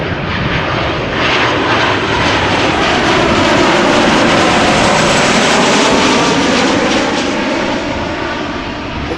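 KLM passenger jet arriving at Amsterdam Schiphol Airport, a loud sustained engine roar with a broad rumbling whoosh that swells and slowly shifts as the aircraft passes overhead.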